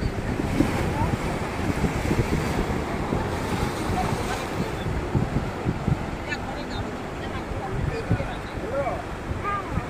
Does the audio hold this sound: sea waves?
yes